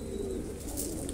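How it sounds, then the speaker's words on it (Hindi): A small white Iranian Patait pigeon, a dove-sized house breed, gives a soft, close coo in a short burst, quiet against faint background noise. "छोटा सा कबूतर है"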